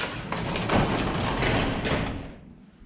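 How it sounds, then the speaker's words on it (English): A newly installed residential garage door rolls down with a steady rattling, rumbling slide for a couple of seconds, then fades out as it settles closed. "The door comes down nicely."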